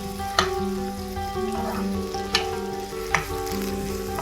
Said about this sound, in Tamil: கொஞ்சம் நல்லா வதங்கணும்.